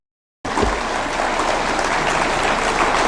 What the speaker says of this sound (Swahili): I want to request you to stand up so that we can do a round of applause to all our counties.